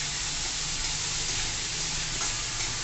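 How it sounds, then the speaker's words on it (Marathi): Onion sizzling and frying in a pan for palak paneer, a steady close crackling hiss of hot oil that carries on without a break, with no one talking. "कांदा चांगला परतवून घ्यायचा."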